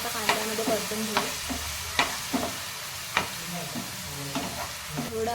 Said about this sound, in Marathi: टोमॅटो पण छान मऊ होईपर्यंत कांद्यामध्ये परतून घेऊ.